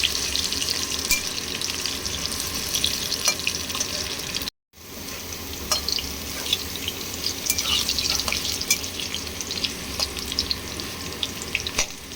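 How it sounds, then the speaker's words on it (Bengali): Potatoes frying in oil in a pan after cumin seeds have been tempered, a continuous close hiss and crackle with a brief gap partway through, no talking. "এবার আলুটাকে এখানে ভেজে নেব।"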